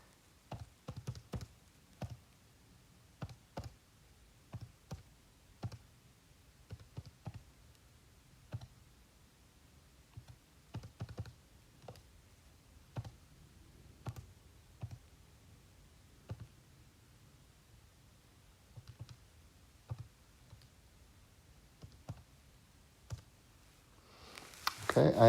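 Calculator keys pressed one after another as a number is entered, giving a steady run of soft, close clicks and taps in a quiet room, with a brief rustle at the end.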